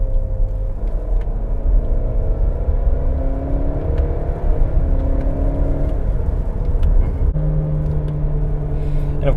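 A 2020 Ford Explorer engine hums and rumbles steadily while driving, its pitch stepping through downshifts, loud and continuous from inside the cabin.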